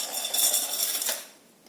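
Broken biscuit pieces drop into a mixer grinder jar, a short burst of bright clattering and rattling against the hard jar that fades out after about a second.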